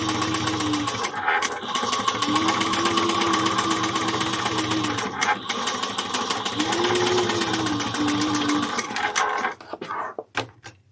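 A sewing machine runs through a leather handbag seam, a loud, fast, even mechanical chatter that holds for several seconds, eases briefly and resumes, then stutters through short back-stitch bursts before stopping, close up with no talking.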